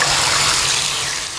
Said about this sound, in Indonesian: Seperti keran air ini